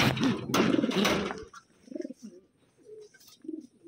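Pigeons cooing softly in short, low murmuring phrases after a burst of louder noise at the start, fairly close with no talking.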